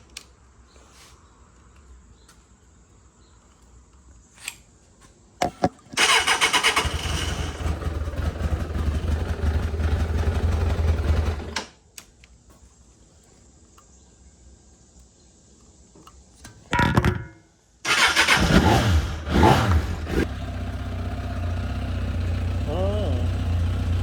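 A 1998 Suzuki GSX750F Katana motorcycle, with its clutch switch disabled after a clutch replacement, is started for the first time: two loud bursts of cranking and engine running, separated by a quiet pause.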